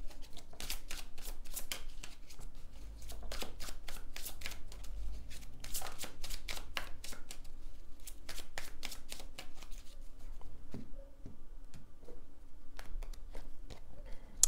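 Tarot cards are shuffled by hand in a steady run of crisp riffling and slapping strokes, close and fairly quiet, with no talking over them.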